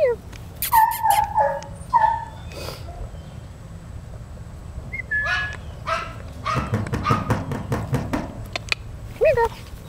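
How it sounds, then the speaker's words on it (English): A dog barks repeatedly in sharp bursts, with some whimpers and yips mixed in, while a person talks to the dogs nearby. "Most of the barking you hear is Roxy."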